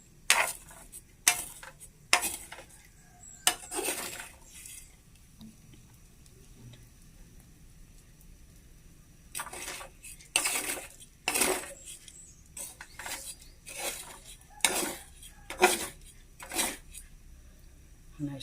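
Food stirred in a cooking pot, a series of sharp metallic scrapes and clinks of a utensil against the pot in irregular bursts with a quiet pause in the middle, close by and fairly loud.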